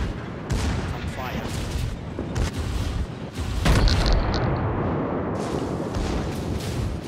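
USS Arizona battleship guns fire in World of Warships, giving repeated deep booms and rumbling blasts over several seconds. Players talk over the gunfire.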